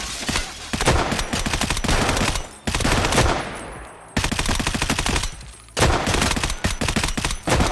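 Sustained automatic gunfire in the shooter game Escape from Tarkov on the Streets of Tarkov map, loud rapid bursts with short gaps between them, and no talking over the shots.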